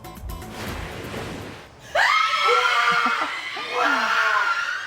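A family in Salay, Misamis Oriental, screams with joy as a son learns he passed the bar exam: sudden loud, overlapping high-pitched shrieks and excited cries burst out after a quieter murmuring start and continue in waves close by.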